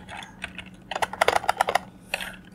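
Command being typed on a computer keyboard, a fast run of close plastic key clicks, a few scattered taps then a dense burst, ending in more spaced keystrokes.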